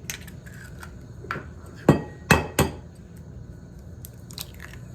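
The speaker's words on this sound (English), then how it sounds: "We crack in the egg, 1." An egg is cracked for Indian French toast, giving three sharp, close cracking knocks in quick succession against a quiet kitchen background, with small clinks before and after.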